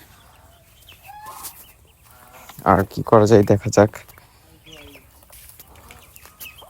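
A flock of chickens and ducks clucks and chatters while feeding at a farmyard, a burst of louder clucking in the middle, with someone talking over the birds.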